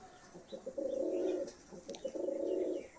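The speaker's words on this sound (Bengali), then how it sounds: "পায়রাগুলো দেখতে পাচ্ছ," Pigeons of a fancy breed kept for sale coo softly nearby, giving two low, rolling bursts of cooing separated by brief pauses.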